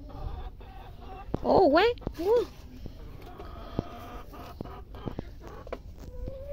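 A brooding hen clucks in a short burst of rising, throaty calls near the microphone, then falls quiet while a person talks and scattered clicks and light knocks sound around her.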